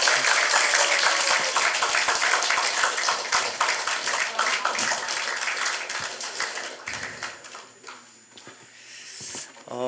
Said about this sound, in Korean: 우리 연극 수고해주신 우리 지체들에게 박수 한번 부탁드리겠습니다.